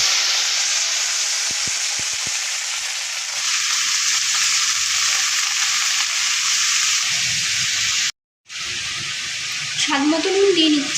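Carrots, beans and capsicum stir-fry in a pan for fried rice, giving a loud, continuous close sizzle with a short break and a brief voice near the end.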